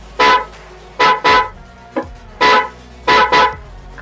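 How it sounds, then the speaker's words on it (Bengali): Motorcycle horn sounded in three bursts, a single honk then quick doubles, with a short faint blip between; loud, close and alone, with no talk. "আমি আগে এটা দেখাই আপনাদেরকে, সাউন্ডটাও আমি দেখাচ্ছি। হচ্ছে হর্ন দুটা"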